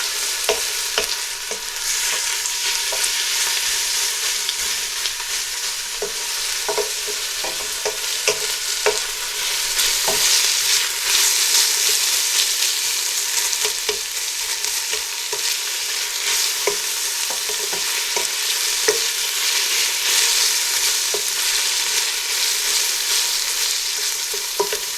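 Onions frying and being stirred in a pan for cumin pilau rice, a steady loud sizzle with scattered scraping clicks of the spoon running throughout, no voices.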